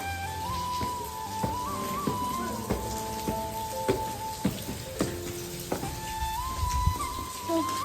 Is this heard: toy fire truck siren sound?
no